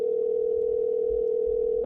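A telephone dial tone heard while placing a call: one loud, steady continuous tone holding unbroken for nearly two seconds, then cutting off abruptly at the end, with no voices.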